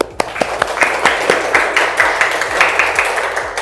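Steady applause from a seated class fills the room during a university teaching session, a dense patter of many hands with a few louder claps standing out, fairly close and continuous throughout.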